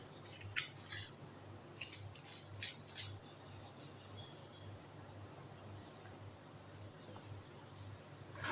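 Green chillies for bajji being cut in a kitchen, a few faint crisp snips and clicks in the first seconds and then quiet, soft handling noise near the microphone.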